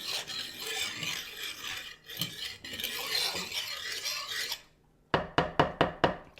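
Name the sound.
stirring bread dough mixture in a bowl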